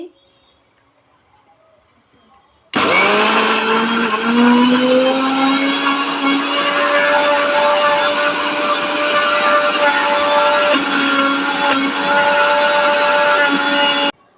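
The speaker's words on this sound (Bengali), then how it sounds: "আমি ডালটা হলো মিক্সিতে করে নিচ্ছি" A mixer grinder churns soaked matar dal, starting abruptly after a couple of seconds of near silence and then running loud and steady with a whining motor pitch until the end.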